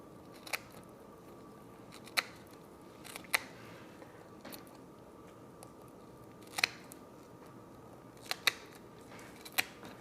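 Scissors snip through walleye skin during fish taxidermy, sharp isolated cuts about one to two seconds apart, close and crisp over a quiet background.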